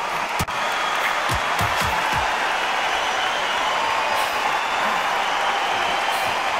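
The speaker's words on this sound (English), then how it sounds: "Really good buzz in the air tonight. This crowd waiting for something special." Steady arena crowd murmur fills the boxing video game bout between Rocky Marciano and Tyson Fury, a constant broad hum with a few brief thuds and swells, no voices standing out.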